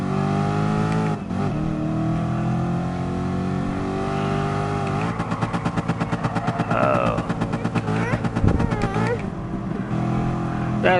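Racing car engines in the video game Gran Turismo, whining high-revving motors rising and falling through gear changes, with a pulsing rattling stretch mid-way as cars close in and pass.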